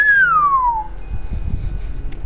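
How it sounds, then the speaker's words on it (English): A single falling whistle of amusement from a character in the video game 428 Shibuya Scramble glides downward from a high pitch, clear and close, then gives way to a low murmur of background game sound. "Archie gave a whistle of amusement."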